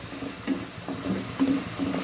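Melon seeds being dry-fried in a pan, stirred with light scraping strokes and a soft sizzle, a few short stirring bursts close by with no voices.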